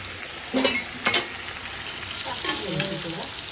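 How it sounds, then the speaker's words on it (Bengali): Meat sizzling and frying while being sautéed and stirred in a pan for kosha, with scraping stir strokes of a spatula in short bursts over a constant crackle, close by. "আমাদের মাংস কষা হচ্ছে আর একটু হলে হয়ে যাবে"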